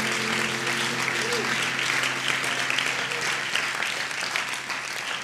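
A church congregation at a Sunday service claps and shouts in celebration, a dense, steady wash of applause and cheering voices that stays loud throughout, with a sustained organ or keyboard tone underneath.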